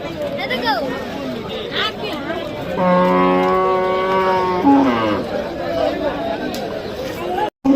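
A cow gives a long, loud moo amid a noisy crowd of chattering people at a cattle market before Eid al-Adha, with other cattle calling faintly around.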